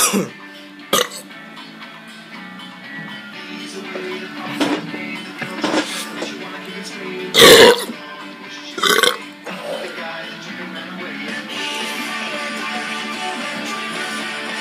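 Several loud burps from a person, separated by pauses, with one especially strong belch near the middle and quieter throaty sounds between them.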